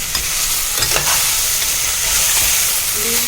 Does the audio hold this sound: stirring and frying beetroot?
yes